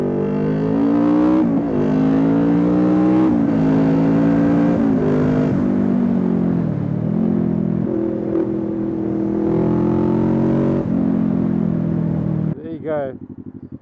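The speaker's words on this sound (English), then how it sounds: "Love the sound of engines" Kawasaki Ninja 650 engine from the rider's seat, loud and close, its pitch climbing and dropping through repeated revs and gear changes over about fourteen seconds, with wind rush and a brief voice near the end.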